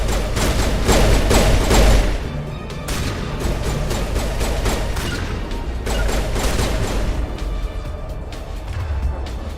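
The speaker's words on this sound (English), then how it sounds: "They do use the rockets." Rocket fire and explosions in Mass Effect Legendary Edition: loud booming blasts and rapid gunfire pile up in a dense, steady barrage of combat noise with heavy low rumble.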